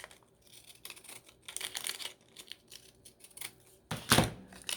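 Pinking shears chop through layered paper for small craft bags, a series of crisp crunching snips and rustles at close range, with a louder, sharper cut near the end.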